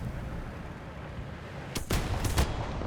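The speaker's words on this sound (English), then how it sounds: "Getting shot from the left, it's a 2S38." Sharp cannon fire from a 2S38 in a tank battle game, two loud close blasts in quick succession rising out of a steady low engine rumble, with no talking.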